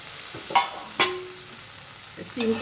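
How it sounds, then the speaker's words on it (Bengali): Broad beans (flat sheem) being fried again with browned garlic in a pan, a soft sizzle running underneath while a spatula knocks and scrapes the pan a few times at irregular moments. "দিয়ে আবার রসুনটার সঙ্গে শিমটাকে আবার ভালো করে ভেজে নেব"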